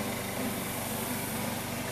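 Lawnmower running nearby outdoors, a steady droning engine hum that continues without a break.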